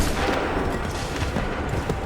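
A dense volley of musket gunfire in the video game Assassin's Creed III, a loud, continuous roar of overlapping shots and booms filling the whole moment.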